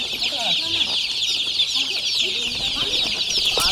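Kampung chickens of the improved ayam kup breed cluck on a farm, a steady flock chatter with scattered near clucks over constant high insect-like buzzing, no speech.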